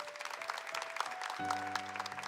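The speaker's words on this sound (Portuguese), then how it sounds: "Pode aplaudir, pode aplaudir, pode aplaudir." A church congregation applauds during a sermon, with scattered clapping throughout that is fairly quiet at a distance. A sustained musical tone comes in partway through.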